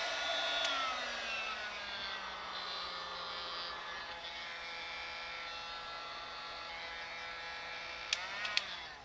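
A heat gun runs on heat-shrink tubing over boat trailer wiring, a steady, fairly quiet whirring drone with a slight pitch drop early on and a few light clicks near the end.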